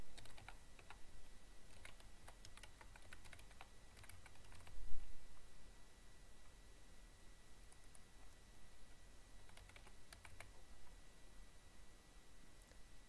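Patient information is typed on a computer keyboard in irregular bursts of soft key clicks that pause and resume, quiet and close against a steady background hiss, with no talking.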